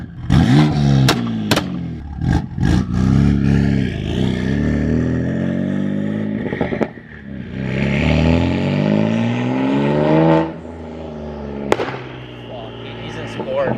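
BMW M2 Competition exhaust in Sport mode, loud engine revs with sharp popping and crackling bursts from the exhaust, close by and repeated across the stretch, with people talking in between.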